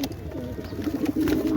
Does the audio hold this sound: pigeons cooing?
yes